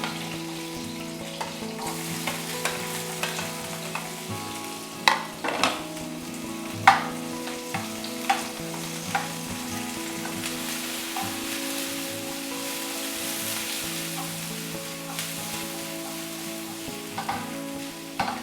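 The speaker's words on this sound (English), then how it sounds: "Now it's time to add garlic and" Garlic and onion fry in a tablespoon of cooking oil over a medium-low flame, producing a steady close sizzle with scattered sharp pops and stirring clacks throughout.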